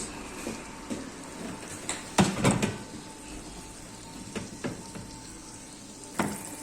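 Meatballs sizzle quietly in a pan, with a low steady frying hiss broken by a few clinks and scraping stirs.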